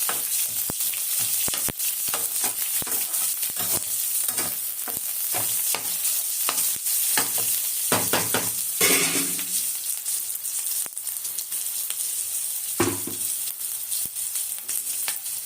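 Fish curry ingredients sautéing in a hot pan, a constant close sizzle broken by frequent scraping and tapping stirs, with no voices.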